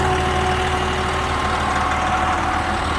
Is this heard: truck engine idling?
yes